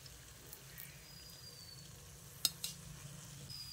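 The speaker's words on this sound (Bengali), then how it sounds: "লো টু মিডিয়াম ফ্লেমে মটরিগুলোকে লালচে করে ভেজে নিয়েছি" Mathri frying in oil in a pan over a low to medium flame, a faint steady sizzle with a couple of brief metallic clinks of a utensil.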